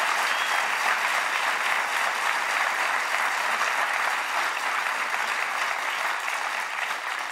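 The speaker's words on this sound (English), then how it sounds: "I can't get used to the clapping" Sustained applause from a large audience, a thick even roar of clapping that holds steady throughout without pause.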